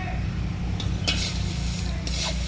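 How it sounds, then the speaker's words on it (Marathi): Whole dried red chillies dry-roasted without oil and stirred in a pan, a soft continuous scraping and rustle with a few sharper utensil scrapes against the metal, close and moderately quiet. "बघा अशी खवळी खवळी मिरची भाजायला लागते"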